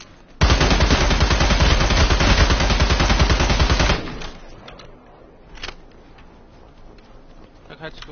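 Rapid automatic gunfire in a battle royale video game rattles loud and continuous for several seconds, then cuts off, leaving a quieter background with a single later burst.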